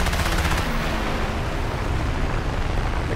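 Machine guns fire from a Ki-10-I biplane in War Thunder air combat, a loud continuous rattling burst that is strongest in the first half-second and then settles into a steady roar of engine and gunfire.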